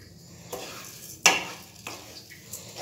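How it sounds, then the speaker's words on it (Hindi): Grated coconut and sugar are stirred in a pan over low heat, a faint sizzle underneath a few distinct scrapes and a sharper clink of the spoon against the metal, close and sparse. "और इसको हम इसी तरीके से मिक्स करते हुए इसको मेल्ट करेंगे।"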